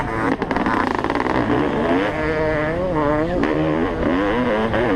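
A 32-year-old Honda CR500 dirt bike races on a hillside track among modern dirt bikes, its engine snarling loudly and continuously with rising and falling revs close by.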